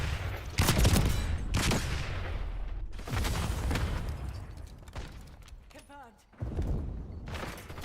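Call of Duty Black Ops 6 gameplay with a Semtex grenade blast and bursts of gunfire: several loud booms and rattling volleys, plus a short electronic chirp.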